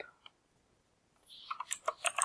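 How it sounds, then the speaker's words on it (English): Fast clicking of keys on a computer keyboard starts after a second of near silence, a close, crisp run of irregular taps that continues to the end. "right when I was typing"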